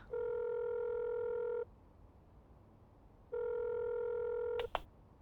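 A telephone call is placed on a landline: two long, steady ringback tones sound at close range, separated by a quiet gap, with a short click at the end.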